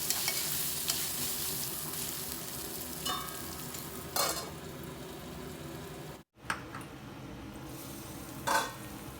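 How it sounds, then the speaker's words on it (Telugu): Drumstick pieces frying in oil make a continuous close sizzle, broken by a few stirring scrapes, one brief dropout and a short sharp clatter near the end, with no talking. "చూడండి, మనకి మునక్కాయ మంచిగా ఆయిల్లో ఫ్రై అయింది"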